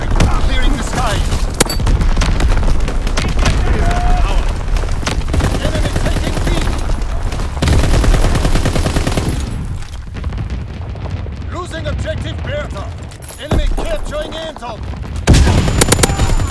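Flak guns pound away during a Domination match on the Shipment 1944 map in Call of Duty: WWII, with dense bursts of gunfire and booming blasts that thin out midway and surge again at the end, under intermittent voices.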